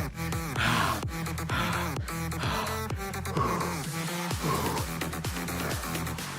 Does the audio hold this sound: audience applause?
no